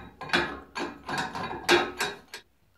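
Screwing a handle into place on a cheap budget starter lathe gives a run of about six close, moderately loud metallic ratcheting scrapes and clicks in a steady rhythm, then quiet.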